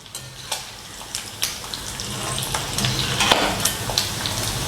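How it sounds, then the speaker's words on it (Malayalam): Squid pieces for a Kerala-style koonthal fry crackle and sizzle steadily in hot oil, a close, continuous bubbling hiss with sharper pops and a few faint scrapes. "നമ്മുടെ കൂന്തൽ ഫ്രൈ നമ്മൾ ഇട്ടല്ലോ എണ്ണയിൽ"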